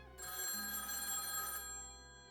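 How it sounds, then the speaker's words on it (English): A telephone bell rings in one continuous bright, metallic trill of about a second and a half, then fades out over a low steady hum. "That phone call saved me, Philip."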